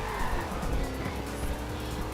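A car in Forza Horizon braking and sliding, a loud continuous engine roar with tire skid noise packed into a short burst, with no gaps or pauses.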